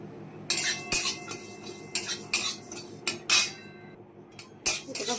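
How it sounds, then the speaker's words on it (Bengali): Cumin, coriander and fennel seeds dry-roasting in a kadai, with a metal spatula scraping and clinking against the pan in irregular bursts, close and fairly crisp, with short pauses between strokes. "এগুলোকে একটু ভালো করে ভেজে নেব।"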